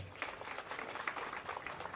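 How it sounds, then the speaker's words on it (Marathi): Crowd clapping at an outdoor rally marking 75 years of the Indian Constitution on 26 January, a dense, fairly steady patter of many hands heard from a moderate distance. "गमरे साहेबांकरिता एकदा जोरदार टाळ्या वाजवा."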